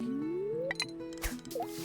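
Fishing line landing in the water in Stardew Valley, a rising whistle of the cast followed by a soft splash, small drips and a brief gurgle, fairly quiet over steady game background music.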